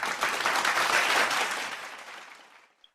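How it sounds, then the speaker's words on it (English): Dense applause from a group at a morning devotion gathering, a full, even burst of clapping that fades out over the last second. "please let us give him a round of virtual clap"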